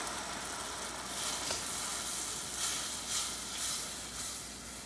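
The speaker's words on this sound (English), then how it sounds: "Everything is boiling and we're going to boil it until it thickens to about 2 cups." A caramel-style sauce of brown sugar, vanilla, corn syrup and heavy cream boils in a saucepan. It gives a quiet, continuous bubbling sizzle with soft hissing swells and no talking.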